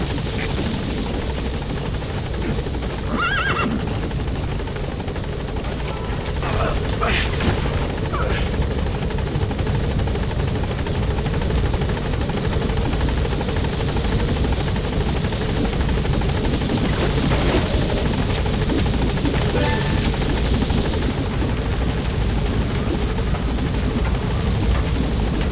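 A helicopter hovers near a landing zone in Metal Gear Solid V, its loud, continuous rotor drone and engine roar filling the whole stretch without letup.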